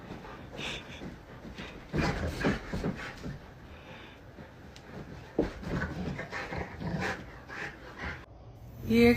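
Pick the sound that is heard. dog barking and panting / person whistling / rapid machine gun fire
dog barking and panting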